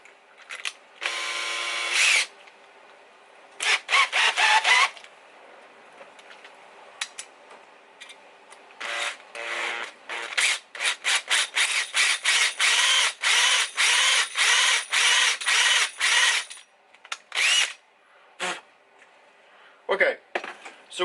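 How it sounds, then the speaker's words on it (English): A power drill bores deeper into a stripped screw on an electric skateboard, revving in many short, loud, close bursts separated by pauses, with a brief longer run near the start. "Let's drill."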